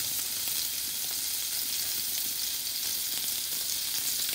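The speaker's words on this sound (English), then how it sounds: "You put the scallops in, turn up the heat down a little bit, and leave it, don't touch it. It will be cooking by itself." Scallops sear in a hot pan on lowered heat, giving a steady, loud hiss and crackle of frying that holds unbroken throughout, with no talking.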